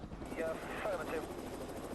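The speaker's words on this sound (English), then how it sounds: "before the chopper rejoins the chase" A police helicopter flies overhead during a car chase, its steady rotor drone filling the background continuously while a voice narrates over it.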